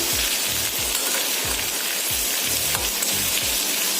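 Onions frying in oil with chillies on the way to golden brown, a dense, steady crackling sizzle with soft rhythmic low thumps of stirring, close and continuous.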